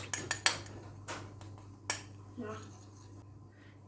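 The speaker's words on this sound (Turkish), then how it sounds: "Üzerine sürmek için bir yumurta sarısıyla bir yemek kaşığı suyu karıştırıyoruz" A spoon whisks egg yolk with a spoonful of water in a bowl for an Easter bread glaze: a few light metallic clinks and taps near the start, then quieter scraping over a low room hum.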